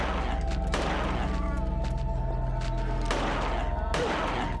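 Rapid gunfire bursts from the survival-horror game Silent Hill 3, several loud volleys spaced a second or so apart over a steady low rumble of in-game ambience.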